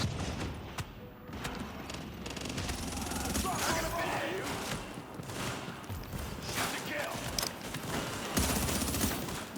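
Video game gunfire from an online shooter rattles in rapid bursts and volleys throughout, loud and dense, with occasional booms and in-game voice cues mixed in.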